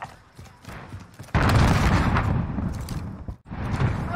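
A sentry gun fires in a tactical shooter, a loud, dense burst of gunfire and booming noise that starts abruptly after quieter background sound, cuts out briefly, then resumes.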